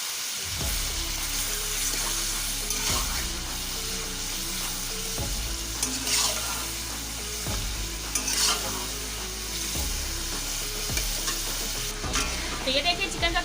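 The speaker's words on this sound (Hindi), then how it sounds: "ऑयल में डालते ही चिकन ने अपना कलर चेंज करना शुरू कर दिया।" Chicken pieces fry in hot oil in a karahi for Peshawari chicken karahi, with a steady loud sizzle and repeated scraping and stirring sounds, close up and without talking.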